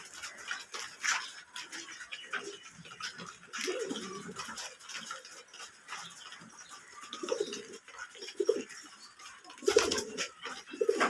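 Domestic pigeons on a home farm coo in low, soft murmurs repeated through the scene, mixed with faint rustling and other bird calls nearby.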